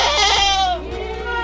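A long-eared male Kaligesing Etawah crossbreed goat gives one loud, close, wavering bleat that fades out after about a second.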